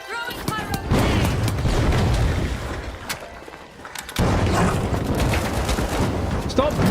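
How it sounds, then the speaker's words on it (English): A pyro grenade goes off in The Finals, loud booms and crackling blasts stacked with gunfire, dipping briefly midway before another heavy burst of explosions rolls in. "Throwing pyro grenade."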